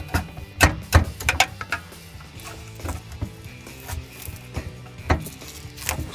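Screwdriver prying a GripSlip strip up off its surface a little at a time: close, irregular clicks, creaks and short scraping snaps, with a few sharper cracks standing out, and no voices.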